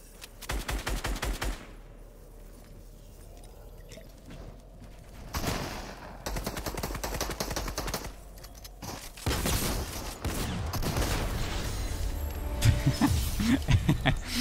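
Rapid bursts of automatic gunfire from a Fortnite match, with dense stuttering shots early on, more bursts mid-clip, then louder sustained firing and game effects near the end, with no talking.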